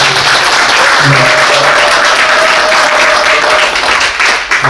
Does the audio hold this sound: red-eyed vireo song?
no